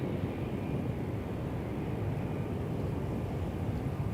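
A Porter Airlines airplane taxiing at Toronto Pearson Airport gives off a steady, even jet rumble that holds without change throughout, heard from a moderate distance with no voices.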